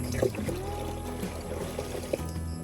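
Water is poured onto lettuce plants, a steady splashing trickle running throughout, with brief faint voices in the background.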